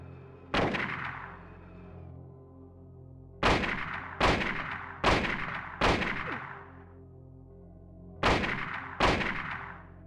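Rifle gunfire in the video game Silent Hill: loud, sharp single shots with decaying tails, one early, then a quick run of four, then two more near the end.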